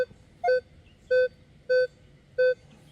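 Minelab Manticore metal detector sounding a mid-tone over a buried suspender clip in a test garden: four identical short, clean beeps evenly spaced about half a second apart, close and clear over a quiet background.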